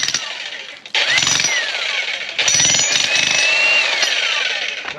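A VEVOR electric demolition jackhammer breaking apart concrete, a loud continuous rapid hammering that stops briefly and restarts, close and dominant with a shifting whine.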